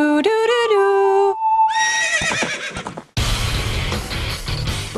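A horse in the video game The Legend of Zelda: Ocarina of Time gives a loud, tonal whinny. It comes after a short melodic tune and is followed by dense, noisy game sound.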